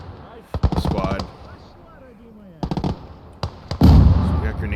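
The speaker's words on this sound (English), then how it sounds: "Grenades going out in the middle." Grenade explosions in the World War II game Gates of Hell: Ostfront, Nevel map PvP skirmish, heard as several loud, sharp bursts spread across the moment, the last one heaviest and booming, with quieter battle noise in between.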